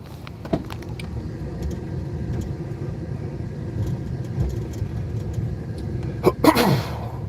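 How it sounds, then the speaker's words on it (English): A car engine idles steadily in a low continuous hum during an arrest, with a few clicks and a brief rattle near the end. "Can y'all turn the car on?"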